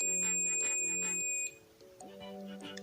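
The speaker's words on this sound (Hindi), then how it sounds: "बीप देने के बाद ये फिर बंद होगी" Digital multimeter beeping in steady pulses while a capacitor is tested, then cutting off before a second faint series of tones begins, close and alone with no talk.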